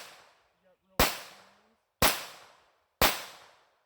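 Ruger SR22 pistol fired three times at an even one-second rhythm, each report a sharp, loud crack with a ringing decay, preceded by the tail of an earlier shot.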